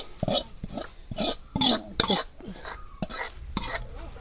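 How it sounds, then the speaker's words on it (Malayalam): Shallots fry in a pan while being stirred, with close, repeated scraping and sizzling bursts in an uneven rhythm. "ചെറിയുള്ളി മൂപ്പിച്ച് വെച്ചിട്ടോ"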